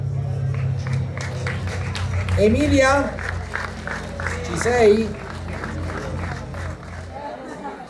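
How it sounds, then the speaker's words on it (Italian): Crowd applause for a rally driver at a slalom event in Oppido Mamertina, steady clapping from a gathered audience running under an announcer's amplified voice, with some chatter mixed in. "un applauso anche alla nostra Emilia"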